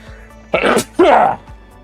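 A sneeze bursts out in two quick loud explosive parts, a sharp intake then release, close up against a quiet room.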